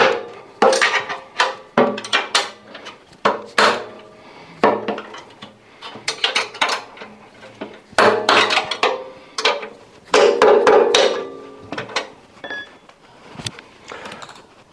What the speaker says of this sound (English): you've got a load of bolts around the side, which I'm quickly going to loosen